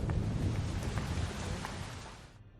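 Steady rain pours down with a low rumble of thunder underneath, fairly loud and continuous before fading out at the end.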